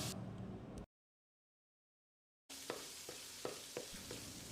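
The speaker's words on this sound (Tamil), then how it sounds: "ஒரு 30 செகண்ட் இதை வதக்கிடலாம்." Chopped ginger, green chili and thin coconut slices sautéing in a hot pan give a steady close sizzle with a few light stirring clicks, cut off by a gap of silence before the frying resumes.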